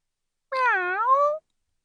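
A single drawn-out cat meow from the tailor's cat Simpkin, clear and close, rising then falling in pitch for about a second, with silence before and after.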